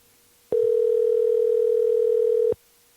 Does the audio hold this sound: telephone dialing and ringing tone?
yes